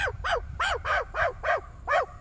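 A meerkat gives a run of sharp, high alarm barks, about seven short calls in a quick steady rhythm, close and clear over a faint low rumble.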